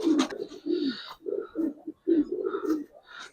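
Giribaz coloring pigeons coo in a run of low, throaty bursts, close by and fairly loud, with a soft break in the middle before the cooing picks up again.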